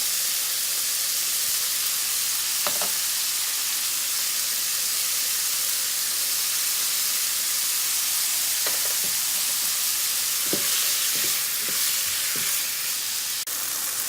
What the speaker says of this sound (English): now that our chicken's been frying for close to 10 minutes